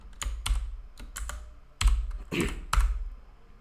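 Keystrokes on a computer keyboard while a SQL query is typed, coming as short bursts of close, crisp clicks with brief pauses between groups.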